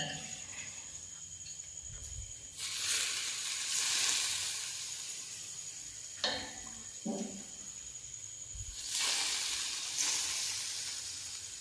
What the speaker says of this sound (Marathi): छान मस्त चरचर आवाज पण येतो आहे सगळं फ्राय होत आहे